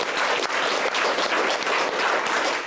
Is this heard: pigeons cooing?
no